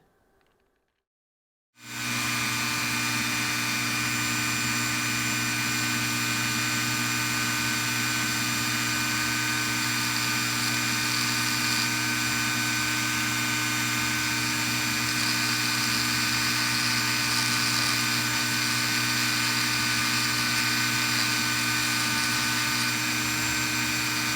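After a brief silence, a Dremel rotary tool grinding and polishing jasper rock starts up in a loud, high, steady whine with a buzzing edge that runs unbroken for over twenty seconds.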